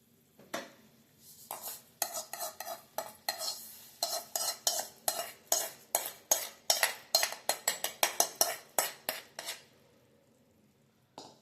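A utensil scrapes and clinks against a pan of vermicelli in a steady, quickening rhythm of stirring strokes, close by with no talking.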